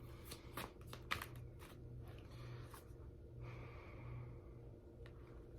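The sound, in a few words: shuffling tarot cards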